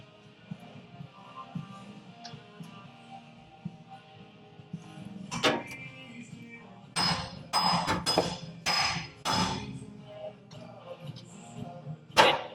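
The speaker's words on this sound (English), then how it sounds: "I'm gonna need to go get a ball peen to tap it down." A ball peen hammer taps down a part on the rear end of a 1996 Caprice, with a handful of sharp metallic strikes, a single hit followed by a quick cluster of blows and one last tap, close and clear over quiet workshop background.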